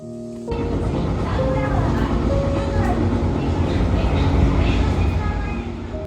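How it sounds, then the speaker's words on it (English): Loud, steady rumble of an Osaka subway train in motion, with droning low hum and faint squealing tones, starting abruptly after a brief quieter moment. "we hop on a short subway ride to Trade Center Station"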